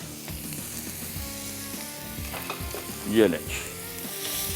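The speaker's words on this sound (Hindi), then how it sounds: "यहाँ पे तेल गरम हो गया, इसमें सबसे पहले शामिल करेंगे ये प्याज चॉप किया हुआ खूब सारा" A large batch of chopped onions, about two big ones, sizzles loudly and steadily in hot oil. Someone stirs them once partway through, and a voice briefly speaks over the frying.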